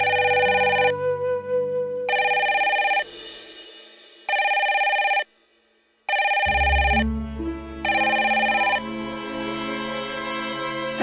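A home telephone rings at night in a repeated pattern of bright, evenly spaced electronic bursts with short gaps between them, loud and close, and a low hum comes in partway through.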